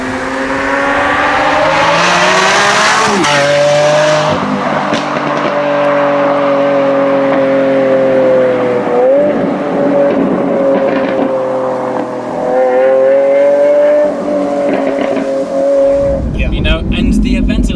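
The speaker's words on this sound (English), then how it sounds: "And the Aventador has such an iconic sound. You can hear them from miles away and you know exactly what it is." A 2018 Lamborghini Aventador engine and exhaust revs loudly and nearby in a continuous snarling drone, with pitch climbing, dropping and climbing again through several gear changes before cutting off near the end.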